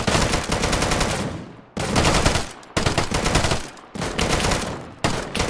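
Rapid automatic gunfire in the survival shooter Deadside, loud close bursts of sustained fire separated by brief pauses, with no talking over it.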